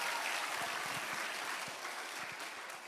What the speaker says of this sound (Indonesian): Jadi tolong berikan tepuk tangan kepada saya.